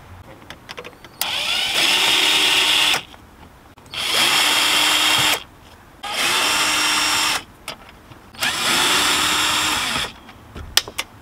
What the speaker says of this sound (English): Right now, I just need to take these four screws out and this entire thing can come out.